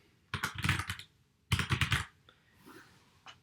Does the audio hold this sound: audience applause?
no